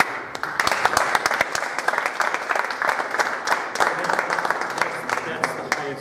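A school audience applauds the Auburndale High School Chamber Winds band for a Superintendent's Music Merit Award, steady crowded clapping filling the room for six seconds without a break.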